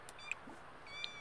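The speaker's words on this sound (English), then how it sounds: "Yeah, Kitty's scared" A frightened cat in The Sims 4 gives two short, faint meows, separated by a brief pause, over a steady low game background without speech.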